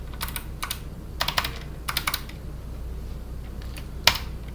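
Computer keyboard keys pressed while working in Blender 3D software, with several quick clusters of clicky taps and a sharper single press near the end, close and moderately loud against a quiet room hum.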